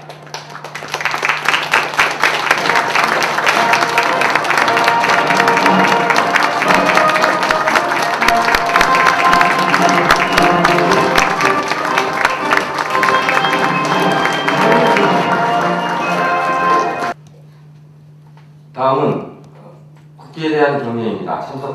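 Dense, loud applause fills a hall as flag bearers enter at an international organisation's ceremony, sustained clapping over a low steady hum that cuts off abruptly, followed by a speaker talking.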